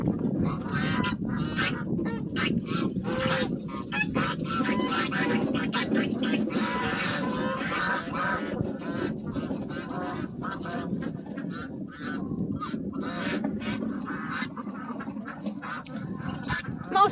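Ducks and geese calling in the morning, a busy mix of quacks and honks close and loud from start to finish, with dense layered calls and little pause between them.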